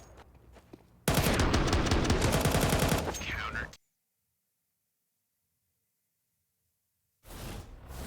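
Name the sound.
gunfire in the video game Counter-Strike 2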